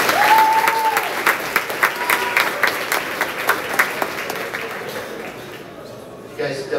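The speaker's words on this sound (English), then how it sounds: "You guys definitely didn't have to applaud, but I appreciate it." Audience applause at a university athletics awards ceremony as the athletic director and swimming coach comes to the microphone, clapping that thins into scattered individual claps and fades, with brief talk near the end.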